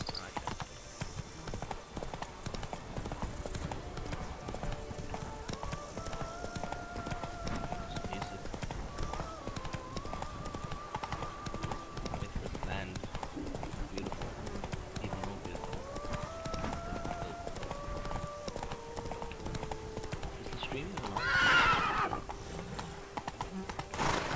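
Hoofbeats of a galloping horse in a video game clip-clop steadily throughout, joined by a brief whinny near the end, with melodic game music tones layered above.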